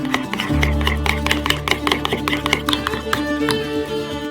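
Mayonnaise, hot mustard and salt stirred together in a bowl, a busy clattering of quick repeated utensil strikes and scrapes over a steady low hum, close and fairly loud.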